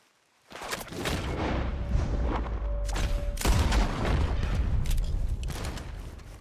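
Gunfire from a barn in Red Dead Redemption 2, a dense rolling fusillade of booming shots and crackling reports that bursts in after a brief silence and keeps going loudly to the end.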